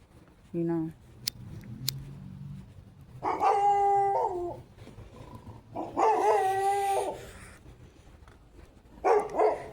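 A dog howls and barks in drawn-out, tonal cries with a few short yips, heard in several separate bursts at moderate distance.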